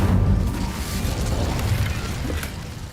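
The Incendio fire spell in Hogwarts Legacy goes off as a loud, roaring whoosh of flame that fills the whole moment and fades only slightly toward the end.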